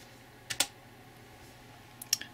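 A few quick keystrokes on a computer keyboard, two short clusters of taps entering a command while rooting and unlocking a Samsung Galaxy Nexus, close and fairly quiet with no talk.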